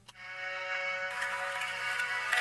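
A synth string layer from a production, auto-panned with filter automation and a reverb of about two seconds decay, sustains a rich harmonic chord that brightens partway through, heard alone without talk.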